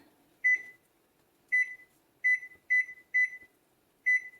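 A kitchen timer is set while a Moroccan chicken in chraime sauce simmers: six short, bright electronic beeps come in an uneven rhythm, close and clear, with no talking.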